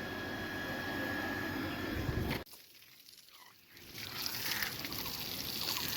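An electric water pump motor hums while water sprays and trickles to cure fresh cement plaster on a house roof; the steady noise cuts off sharply midway, then the rushing water returns at a lower level.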